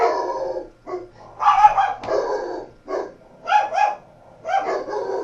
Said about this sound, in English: You're going to hear my dog